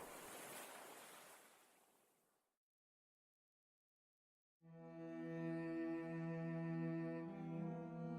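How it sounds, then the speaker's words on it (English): Ocean waves roll and wash loudly for a couple of seconds and fade out. After a silent gap, a sustained, tonal musical drone takes over. "found the sound of the waves quite soothing and peaceful"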